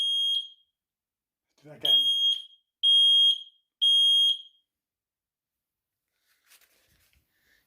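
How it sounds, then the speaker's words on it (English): A smoke alarm, a toast-proof model, sounds a series of loud, sharp high-pitched beeps: one short, then three longer beeps, with a brief spoken remark between them and quiet afterward. "Smoke alarm working."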